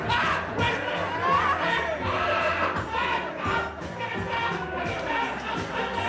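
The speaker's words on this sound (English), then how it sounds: "Screaming's coming now." A crowd of fans shrieks and yells together in a continuous loud wall of excited voices, sustained for several seconds with shifting pitch and no clear single speaker.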